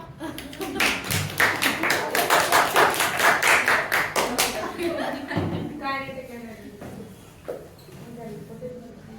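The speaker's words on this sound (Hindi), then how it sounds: "वेरी गुड, तालियां।" A classroom of students claps together for a classmate during a Class 12 physics lesson, a dense burst of hand claps lasting several seconds before thinning out into scattered taps and a few chuckles.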